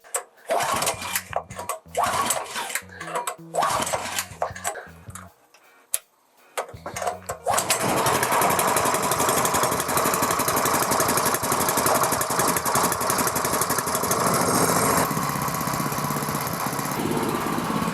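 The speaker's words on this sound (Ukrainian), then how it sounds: "далі заводжу і все вам показую" A small TATA 170F petrol engine is cranked and sputters through several rough attempts, then catches and runs at a steady, loud, buzzing idle.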